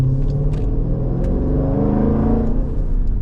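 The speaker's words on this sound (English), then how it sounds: "just to hear my exhaust" Close and loud, a Jeep SRT's exhaust rumbles steadily as the engine pulls under acceleration on a night drive through New York City streets. The drone stays deep and constant, with faint clicks above it.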